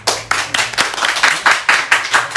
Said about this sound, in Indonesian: Luar biasa, tepuk tangan lu buat Putri.